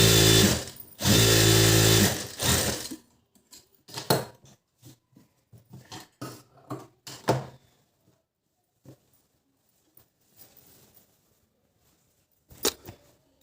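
A sewing machine stitches a blouse in a loud, steady whirring run of about three seconds with a brief pause. Sparse clicks and handling knocks of the fabric and machine follow in a quiet room.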